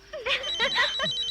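A telephone rings in a Telugu film scene, a short electronic warbling ring burst played loud and close over quiet room tone.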